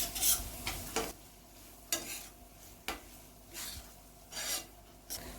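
Spices such as turmeric and red chili powder with a little coriander get stirred in a pan for egg bhurji: quiet, rhythmic rasping scrapes of a spoon recurring about once a second over a faint sizzle.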